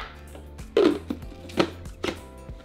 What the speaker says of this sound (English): now blender, we're going to lightly crush 4 tablespoons of peppercorn